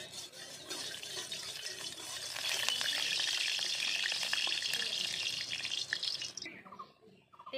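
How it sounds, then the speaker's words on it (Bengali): Katla fish frying in hot mustard oil in a kadai, giving a steady broadband sizzle that grows louder partway through and stays loud, then thins out near the end, with no voices. "তেলটা গরম হয়ে গেছে, মাছগুলো এবার ভেজে নেব।"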